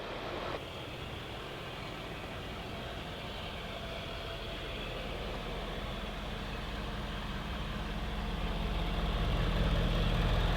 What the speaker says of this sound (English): we'll let the truck run for about 10 to 15 minutes, give it some revs so the oil is nice and flowing